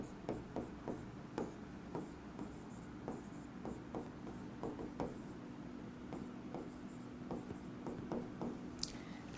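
Chalk or marker tapping and scratching on a board while math is written out, in irregular short strokes and taps over a quiet room, fairly faint, with no clear talk.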